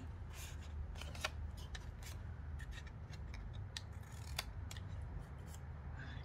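Scissors cut paper for a toilet roll envelope in a quiet room, making a close, soft series of irregular snips and crisp paper rustles over a low background hum.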